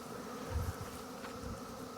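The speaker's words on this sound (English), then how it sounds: "there's a ton of bees in here." A dense swarm of honey bees buzzes inside a cutout hive box, a faint, steady droning hum with no voices over it.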